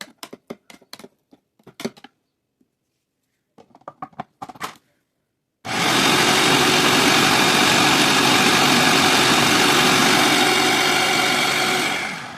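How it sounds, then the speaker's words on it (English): A food processor blends avocado salad with dill, a loud steady whirring motor hum running for about seven seconds after a few short bursts of speech and brief pauses. "Blending the salad took less than 1 minute in total in my case."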